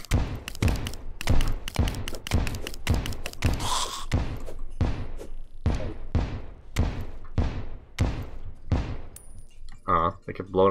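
Bombs in Terraria go off one after another in a steady series of loud, sharp blasts, each decaying quickly, with a brief chime near the end and no speech.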